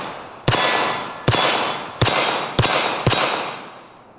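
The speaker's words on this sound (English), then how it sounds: "It did fire all the rounds, and as you can see, it locked the slide back as well." LFA Apollo 11 2011 pistol firing five rounds outdoors at an uneven pace, each shot a sharp, loud crack with a ringing tail that hangs on between shots, and no talk.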